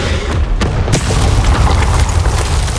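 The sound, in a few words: Expelliarmus spell blast in Hogwarts Legacy video game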